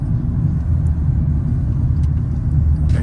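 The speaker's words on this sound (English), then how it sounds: "There's traffic everywhere" Steady, dense traffic rumble from cars on a busy city road, low and continuous throughout with no voices.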